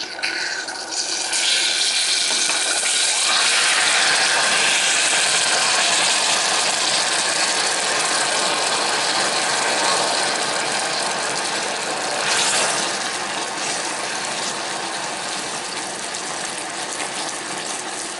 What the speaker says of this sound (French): on va venir déglacer en faisant attention aux projections avec un peu d'eau